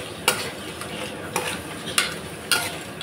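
Coriander and cumin are stirred and fried in a pan, with four sharp scraping strokes of a utensil spaced about every half second over a steady close sizzle.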